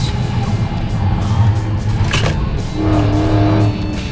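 A Dodge Charger SRT Hellcat's engine roars loudly and continuously on a driving course, a deep sustained growl that rises into a higher-pitched rev near the end, heard up close with no talking.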